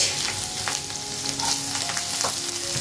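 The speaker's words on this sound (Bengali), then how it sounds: "এবার তো এটা যতক্ষণ না লাল লাল করে ভাজা হচ্ছে" Chopped onions with black cumin frying in oil in a pan for an onion-poppy seed dish, a steady close sizzle with faint stirring scrapes, no voices.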